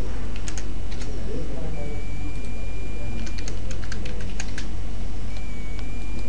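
Rapid, close clicking of a computer keyboard comes in uneven bursts of keystrokes over steady background noise, with a quiet voice in the background.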